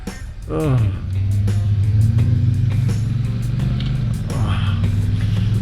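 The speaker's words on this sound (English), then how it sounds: "It's like I'm not even braking, it's just all engine brake." Honda Rebel 1100 motorcycle from 2021 engine braking, a steady low droning engine note that drops in pitch and holds, with a brief rise near the end, heard from the rider's position along with wind noise.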